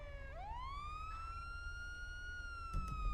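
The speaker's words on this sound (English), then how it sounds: "You could turn your siren off." Police car siren in the video game GTA, a steady wailing tone that sweeps up from low and then holds high and continuous. It sounds loud and close, with a low rumble of game ambience underneath.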